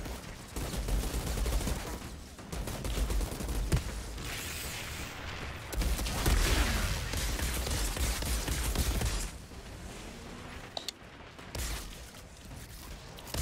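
Gunfire from the video game Outriders, with rapid bursts of automatic shots and heavy booms in a continuous, dense exchange of combat noise that swells and fades over several seconds, loud and close.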